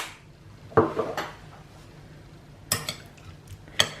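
A spoon clinks against a bowl while prawn cocktail sauce is mixed with paprika, cayenne and pepper: three separate sharp clatters spaced a second or two apart, close by, with quiet stirring between.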